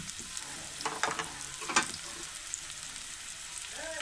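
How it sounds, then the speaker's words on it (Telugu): Onions fry in hot oil for a curry, giving a soft, steady sizzle with a few brief stirring scrapes near the middle. "ఇగో ఉల్లిగడ్డలు మంచిగా బ్రౌన్ కలర్ వచ్చే వరకు వేయించాలి"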